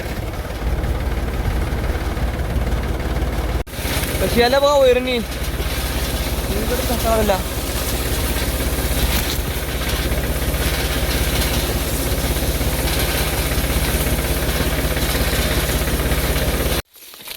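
A tractor engine runs steadily and loudly at close range on a farm beside a fodder cutter, a continuous low drone throughout, while a person talks over it.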